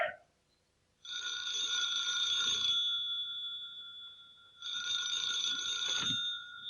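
An old telephone bell rings in two long bursts separated by a short pause, loud and close, with no talk over it.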